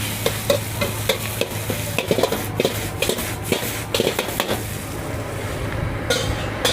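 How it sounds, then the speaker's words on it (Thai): Rapid, busy scraping and clanking of a spatula against a wok as crab fried rice is stir-fried over steady sizzling at a night market stall in Chonburi, close up with no talking. "มีกระทะผัดข้าวนะ"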